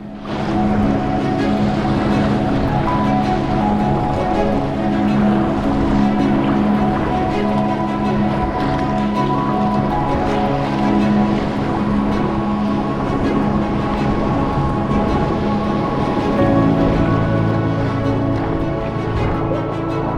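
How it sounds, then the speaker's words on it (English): Sea kayak paddling through choppy reflected waves off Cape Wrath, a steady loud wash of water and wind noise running continuously close to the microphone throughout. "More interesting sea conditions as we round the point in the reflected waves."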